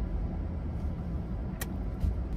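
Steady road traffic in Los Angeles, a continuous low rumble of passing cars with no clear individual vehicles, moderately loud and unbroken throughout.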